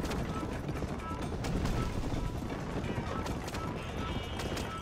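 Horse hooves clip-clop steadily in the Western video game Red Dead Redemption, a continuous galloping patter under dense game sound and ambience, with a voice faintly present.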